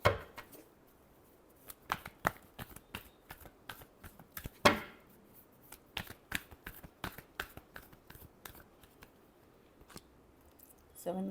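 Tarot cards being shuffled in a reading produce a rapid series of crisp riffling snaps and slaps, close and fairly quiet, with brief pauses between bursts.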